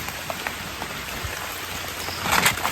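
Steady rain patters outdoors during a mushroom-foraging outing, a dense hiss of drops striking leaves and ground with a brief heavier burst near the end, no voices.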